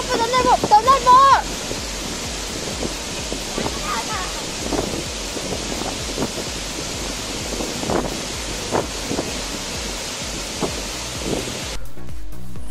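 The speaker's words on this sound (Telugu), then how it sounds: "చూసారు కదా వాటర్ ఫాల్ ఎక్సలెంట్ గా ఉంది." Bhairavakona waterfall pouring continuously, a broad steady rush of falling water heard close, with a few brief voices at the start and faint sounds of people around.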